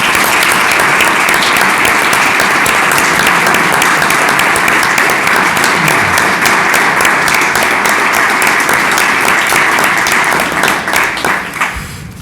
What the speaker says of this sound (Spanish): Creo que debemos de hacer un aplauso para el pueblo ucraniano por lo que están pasando.